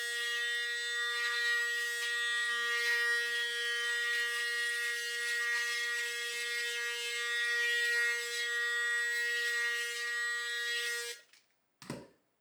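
Electric shaver, a Panasonic Arc 6 or Philips 5000, running in a steady close buzz for about eleven seconds before cutting off abruptly, followed by a short soft knock.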